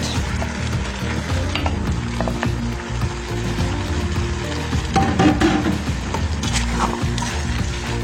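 Cabbage, mixed vegetables and tomato sizzle and fry in a hot pan while being stirred, a steady loud crackle with occasional scraping from the stirring.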